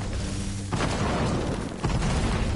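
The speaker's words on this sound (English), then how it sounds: "Is that you blowing up stuff?" Explosions in a Fortnite 50v50 match: two loud booming bursts, roughly a second apart, rise over a constant rumbling din, close and forceful, with no voices.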